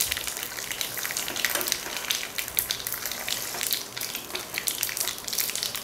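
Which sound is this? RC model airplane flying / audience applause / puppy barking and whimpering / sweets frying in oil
sweets frying in oil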